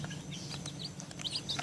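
Chickens on a poultry farm cluck and chirp in short, scattered calls over a steady low background hum.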